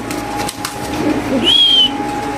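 Racing pigeons, among them a female club racer, coo from inside a cage, their low soft coos rolling on and off with a faint whistle-like tone above a steady background hum.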